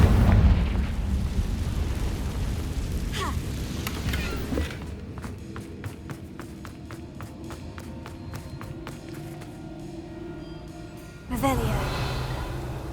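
Confringo blasting-spell explosions in Hogwarts Legacy burst out as booming blasts at the start and again near the end, with smaller pops between. A rapid, rhythmic clattering fills the middle stretch.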